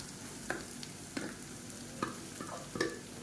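Mashed raw plantain and golden onion fry gently in oil, a soft sizzle broken by a few scraping stirs spaced about a second apart, quiet and close with no voices.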